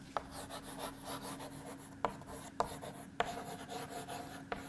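Pen or marker writing out a quiz question for a class, steady scratchy strokes with a few sharp taps as it meets the board or paper, close and alone.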